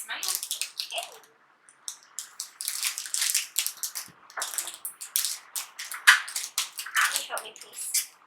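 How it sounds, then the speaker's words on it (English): Krusteaz pumpkin bread mix being opened and poured into a mixing bowl in a home kitchen, with papery crinkling, rustling and soft dry pours in close, uneven bursts; no one talks during it. "You want me to open it and pour it in here?"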